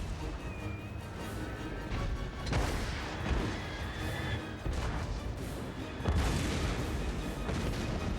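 Battlefield gunfire and booming volleys in Total War: Warhammer 3, a dense, continuous din of shots and crashes with louder bursts, game effects only.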